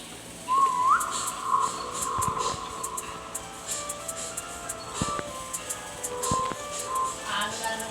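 A person whistles a rising note that holds as a long steady tone, outdoors in a garden with papaya, heard against background chatter and clatter.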